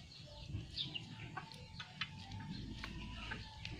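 Pet chickens cluck softly and intermittently around a rural home, faint and somewhat distant, with a few higher calls scattered over low background noise.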